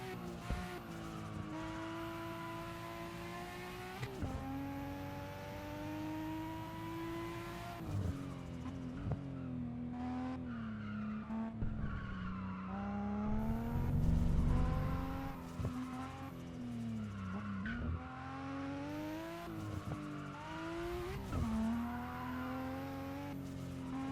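A car in a racing video game drives with a continuous, loud engine drone that rises and falls as it revs. Tire squeals and skids come through between the engine notes, with no voices.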